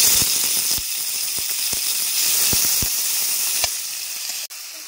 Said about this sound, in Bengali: ফোড়ন করা হয়ে গেছে, এবার টমেটো কুচি দিয়ে দিচ্ছি।